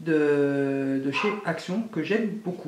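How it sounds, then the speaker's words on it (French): A dog at home whines with a long, high, sustained tone, then yips and barks in short bursts while someone talks in French over it. "Et ça c'est mon chien qui gueule."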